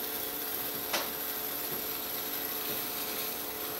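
A strap trim tool scrapes steadily against a 5 lb clay jar on a spinning wheel, making a constant, hissing rasp that runs through the whole stretch with one sharper scratch near the start.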